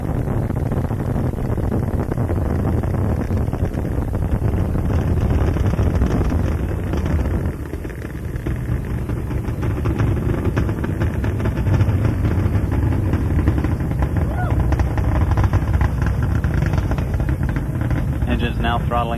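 Space Shuttle Endeavour's engines roar steadily during launch, a loud, unbroken low rumble lasting the whole stretch, with a commentator's voice over it.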